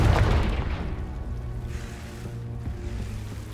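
A deep, rumbling explosion from the Confringo blasting spell in Hogwarts Legacy, loud and booming at the start, then decaying into a long low roar that lingers through the rest.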